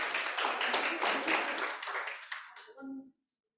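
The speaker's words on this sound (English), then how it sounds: "Can we give David a round of applause" A small crowd claps steadily for a few seconds, then the applause thins and dies away with a murmur of voices.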